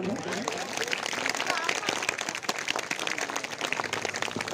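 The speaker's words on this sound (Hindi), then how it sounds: "सभी लोग जोरदार तालियां बजाएं।" An audience applauding at a staged performance about Ambedkar attending the London meeting, a dense continuous patter of many hands, fairly distant and steady throughout.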